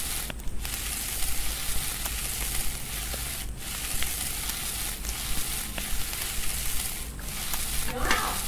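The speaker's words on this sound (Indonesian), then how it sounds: "ini dia lagi proses masak ya" Raw bear meat cooking over a fire in a survival video game: continuous dense sizzling and crackling at steady loudness, with faint clicks throughout and no clear voice over it.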